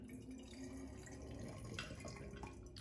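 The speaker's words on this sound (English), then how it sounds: "And let's pour the water in." Water from a bottle pours through a funnel into another bottle, a soft, steady trickle and gurgle recorded close and quietly in an indoor setting, with no talking.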